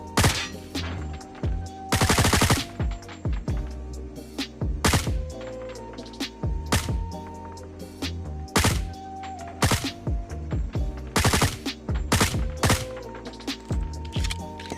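Rapid bursts from the L-CAR 9 pistol in Call of Duty Mobile: loud, sharp repeated shots in quick strings, with brief pauses between volleys.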